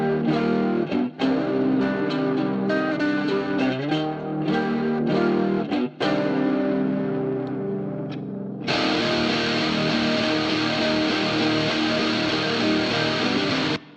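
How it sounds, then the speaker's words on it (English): Several distorted electric guitars stacked together in a band mix with live drums, a thick, aggressive wall of chords with crashing accents, shifting to a brighter, fuller sustained section partway through, loud and continuous without talk. "So all of the guitars together will sound like this."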